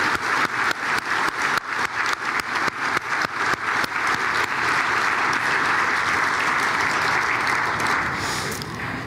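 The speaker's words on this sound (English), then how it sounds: "Let's give ourselves a round of applause for another successful year." An audience at an annual general meeting claps together, dense and sustained at close range, starting with uneven bursts and settling into a steady roar of applause.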